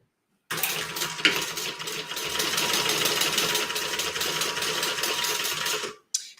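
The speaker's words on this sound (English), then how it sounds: "So all I'm doing is top stitching down each end of these connectors" A sewing machine top stitching down the ends of bag strap connectors, one steady fast mechanical whir of about five seconds that starts and stops abruptly, close and with no talk.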